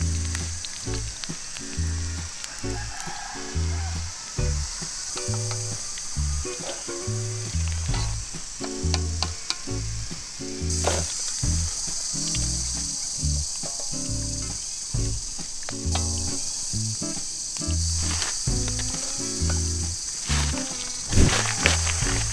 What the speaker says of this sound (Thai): นี่จักระจันทอดดูซิว่ามันกรอบหรือยัง